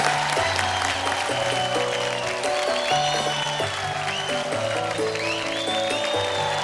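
A crowd at a fair-style talent show in Lucknow claps steadily for a third-place winner, a dense continuous patter over loud rhythmic music with a thumping bass line.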